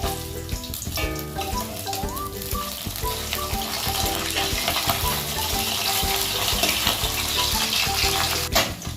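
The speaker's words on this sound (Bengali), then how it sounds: "মাছগুলো উল্টিয়ে ভেজে নিচ্ছি।" Pabda fish frying in oil and being turned over, a dense, loud continuous sizzle with crackling throughout and background music playing over it.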